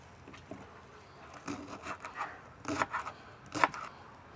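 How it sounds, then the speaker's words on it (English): A knife cuts leeks into quarters for a mutton stew, a few soft chopping and scraping strokes on a board, faint and close, spaced irregularly with the last two the sharpest. "So I cut them into quarters"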